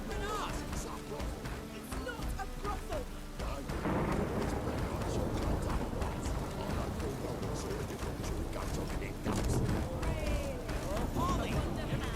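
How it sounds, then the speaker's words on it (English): Thunder from a storm in the video game The Witcher 3: Wild Hunt rumbles low and steady beneath game ambience, with a heavier roll partway through and faint bird calls mixed in. "The storm, damn it."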